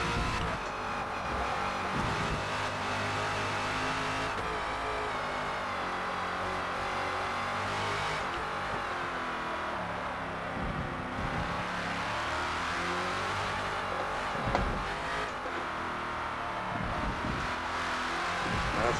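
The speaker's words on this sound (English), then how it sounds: "You can kind of hear how traction control is trying to keep the car stable when I really want it to accelerate" A #17 Ford Falcon FG X race car in Forza Motorsport at Yas Marina accelerates hard, its engine droning and rising and falling steadily as traction control cuts in, loud and continuous with no talk.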